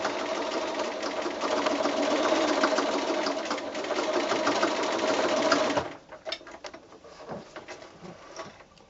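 Sewing machine running a short back stitch while quilting a mini mitt, a steady rapid whirring hum for about six seconds, then stopping into faint clicks and handling noises.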